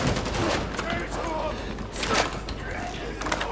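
Gunfire in the video game Warhammer 40,000: Darktide, with dense rattling bursts and thuds of combat mixed with game noise, running steadily under someone talking excitedly.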